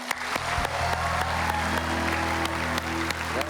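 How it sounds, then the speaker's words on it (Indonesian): Audience applause in an Indonesian stage hypnosis show, steady clapping filling the whole stretch over a low sustained hum, no talk. "Tepuk tangan penonton akan membangunkan Anda."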